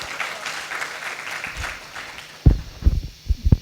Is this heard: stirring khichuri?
no